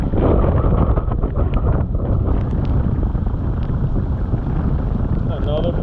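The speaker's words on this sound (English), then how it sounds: "Another perfect storm." Strong storm wind buffets an anchored boat, a loud continuous roar of gusts across the microphone with water churning underneath, steady and close for the whole stretch.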